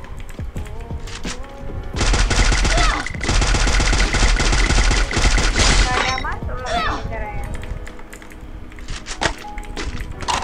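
Gunfire in the battle royale game Free Fire bursts in loud rapid automatic volleys with sharp shots and breaking-glass clatter, while players talk over the fighting.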